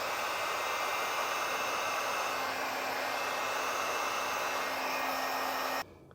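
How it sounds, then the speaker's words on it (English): A heat gun or similar heat source blows steadily to shrink heat-shrink butt connectors while installing an Air Lift WirelessAIR compressor system on a 2016 Chevrolet, making a loud continuous airy roar for about six seconds before cutting off abruptly. "you can come back with a heat source"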